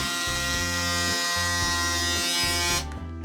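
An electric shaver, either a Braun Series 9 Sport+ or a Panasonic Arc4 ES8243AA, buzzes loudly and continuously with a steady high whine, its tone dipping rhythmically as it passes over stubble before cutting off near the end.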